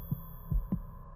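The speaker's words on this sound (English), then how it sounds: "Oh, her heartbeat." Heartbeat in the video game The World Well: Blood of Caro, with soft, muffled low thumps beating in a steady pulse over a faint hum, quiet and close.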